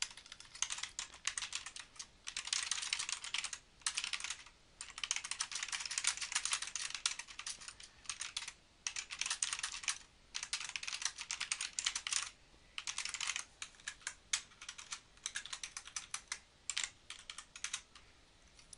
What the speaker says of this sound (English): I'll go ahead and type this in, and then we'll stop.